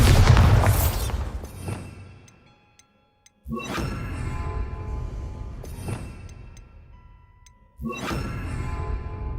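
In Hogwarts Legacy, the Bombarda blasting spell goes off in three separate heavy explosions with a brief whoosh and ringing tail. Each boom fades before the next one hits, with a short silent gap after the first.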